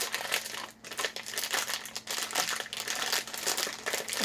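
A snack packet from a French snack box is crinkled and torn open by hand, giving busy, close plastic rustling and crackling in irregular bursts throughout.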